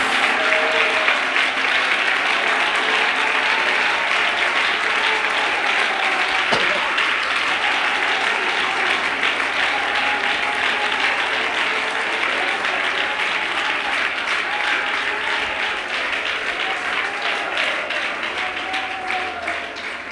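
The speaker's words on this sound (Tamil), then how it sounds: "அத்தனை பேரும் கை தட்டணும்" Congregation clapping hands steadily through a Tamil church service, a dense continuous wash of applause lasting the whole stretch with faint voices mixed underneath.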